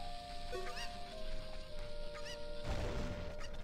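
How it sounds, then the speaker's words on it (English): Chicken clucks from the video game The Legend of Zelda: Ocarina of Time, a few short squawking calls over steady game music and background noise, moderately faint. "There's a chicken here."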